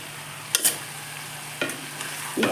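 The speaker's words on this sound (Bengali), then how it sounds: "একসঙ্গে ভালোভাবে মশলার সঙ্গে মিশিয়ে নেব" Boiled jackfruit is stir-fried with spices in a pan. A soft, steady sizzle runs under a few distinct scrapes of a spatula against the pan, close and fairly quiet, with no voices.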